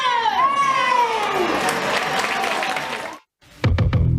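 Applause and cheering from an audience at a kindergarten science-day event, with children's voices mixed in; a dense, steady wash of clapping and shouts runs for about three seconds, cuts out briefly, then resumes loudly.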